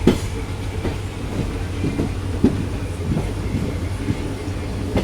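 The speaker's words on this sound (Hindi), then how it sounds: "चलो 3 मिनट के स्टॉप के बाद अभी अपनी ट्रेन निकल रही है रामदेवरा रेलवे स्टेशन से।" A passenger train pulls out of Ramdevra railway station in the Thar Desert after a three-minute stop, heard from inside a general coach: steady low rumble with rhythmic wheel clacks and thumps, loud and close throughout.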